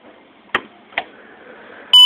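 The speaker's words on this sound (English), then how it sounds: "That's our alarm." Alarm in a community center building during a heat-wave power outage: two sharp clicks in a quiet dark room, then a loud electronic beep tone starts abruptly at the end.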